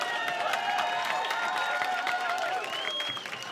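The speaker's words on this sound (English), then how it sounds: "the spectators showing their appreciation. Just listen to that noise" A comedy club audience applauds at close range, a dense patter of many hands mixed with cheers and whistles, holding steady before thinning out at the end.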